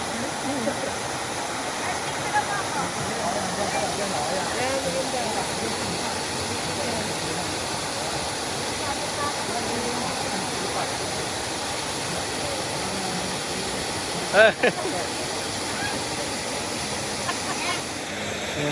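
Steady, unbroken rush of falling water at Rolly Lake Falls, a constant broadband roar heard from nearby along a camping trail, with faint voices and one brief knock near the end.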